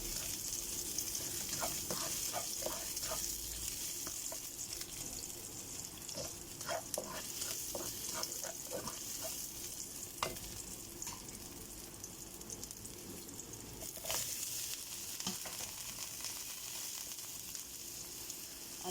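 Onions sautéing in a pan before loofah and glass noodles go in, a steady sizzle running throughout with clusters of scraping stirring strokes, close and moderately loud, no talking.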